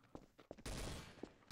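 Gunfire in the video game Trouble in Terrorist Town: a few sharp distant shots, then a louder burst of rapid fire that rings out and fades.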